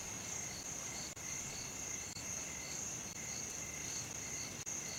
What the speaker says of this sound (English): hear caged live crickets and other pre-recorded sounds of nature in Dolby Surround